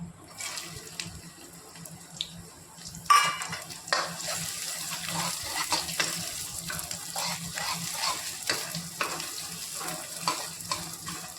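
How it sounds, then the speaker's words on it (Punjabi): Chopped onions sizzle in a pan with browned garlic while saag is being prepared, a soft, continuous frying hiss broken by scraping stir strokes and a sharper clatter as ingredients go in. "ਇਸ ਤੋਂ ਬਾਅਦ ਚ ਆਪਾਂ ਇਹਦੇ ਵਿੱਚ ਦੋ ਕੱਟੇ ਹੋਏ ਪਿਆਜ਼ ਪਾਉਣਾ"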